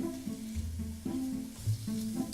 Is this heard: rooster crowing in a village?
no